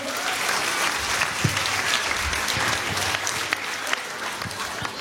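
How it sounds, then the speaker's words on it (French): An indoor audience claps in sustained applause that stays even and dense from start to finish, with a few louder individual claps standing out. "C'est bon, on peut l'applaudir s'il vous plaît."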